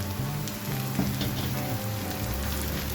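Keema minced meat frying in a pan with turmeric, red chilli, coriander powder, cumin, salt and garam masala, giving a steady, even sizzle throughout, close and moderately loud, with no talking.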